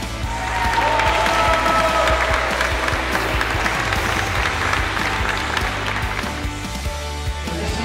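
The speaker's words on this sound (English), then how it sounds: "Let's give a round of applause as they hand together for the first time as husband and wife." Wedding guests applaud the newly married couple at the end of the ceremony, a sustained burst of many hands clapping that fills the room and fades slightly toward the end.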